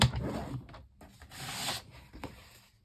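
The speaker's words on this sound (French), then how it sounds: "nous allons marquer un pli à 9" A tool is drawn along a fold line in scrapbooking paper turned lengthwise, giving short dry scraping strokes with a brief pause between passes, close and fairly quiet with no voices.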